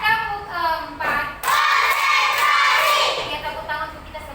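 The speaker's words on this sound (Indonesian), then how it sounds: "tepuk tangan untuk kita semua dulu" A group of children clap their hands together in a classroom, a burst of loud, dense clapping mixed with excited voices, following a short stretch of chatter.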